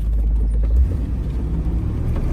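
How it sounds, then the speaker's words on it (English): A 1961 Cadillac Series 62 convertible's engine accelerates in a deep, loud low rumble that rises and then settles into a steady drone. "Nice acceleration."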